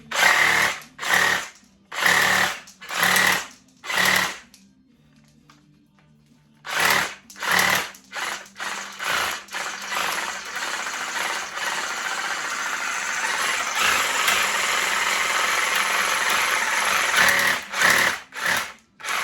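Homemade DIY paint shaker running in loud rhythmic bursts, a regular up-and-down pulsing that stops for a quiet pause, then restarts and settles into a longer continuous drone before a few final pulses.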